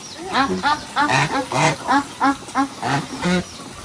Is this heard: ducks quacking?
yes